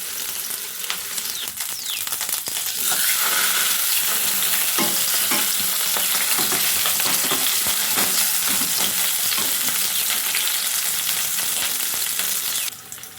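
Paneer fries lightly in ghee for palak paneer, giving a steady, loud, dense sizzle that runs unbroken from start to finish, with occasional faint stirring clicks, then drops off abruptly at the very end.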